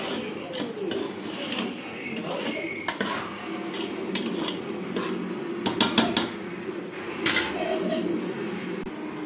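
Metal spoon scraping and clanking against a cooking pot as pre-cooked mutton is mixed into pumpkin, with irregular close knocks and scrapes over a steady kitchen background hum.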